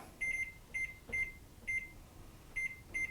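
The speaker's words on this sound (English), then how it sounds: "So I'm going to turn the timer on." An oven timer being set gives a string of short, clear electronic beeps, single and double presses spaced unevenly, close but quiet over faint room hum, with no talking.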